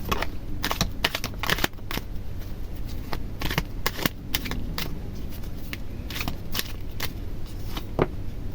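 Tarot cards being shuffled for a reading give a steady run of close, crisp riffling and flicking clicks, fairly quiet, with no voices.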